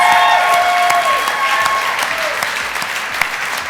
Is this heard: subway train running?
no